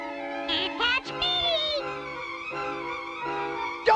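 A cartoon cat meows and yowls in a series of drawn-out, wavering cries over a background music track, loud and close.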